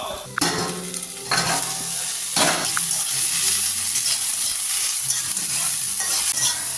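Chopped banana flower fries in a pan with a steady close sizzle, punctuated by a few loud scraping stirs of a spatula against the metal and no talking.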